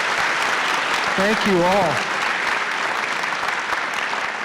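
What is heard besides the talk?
audience applause for orientation panelists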